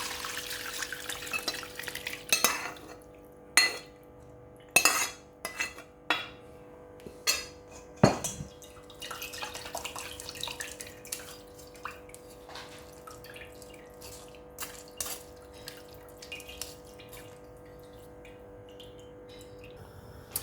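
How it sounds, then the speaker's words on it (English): Roast beef juices and drippings are poured through a metal strainer in a home kitchen, making a soft trickle broken by a run of sharp clanks and taps of metal on pan, close and fairly quiet. "I'm gonna pass this through a strainer"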